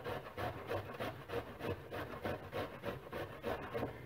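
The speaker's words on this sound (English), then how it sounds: "we just want to grate one small carrot" One small carrot rubbed against a grater in quick repeated strokes, a soft rhythmic rasping scrape close by and fairly quiet, with no talking.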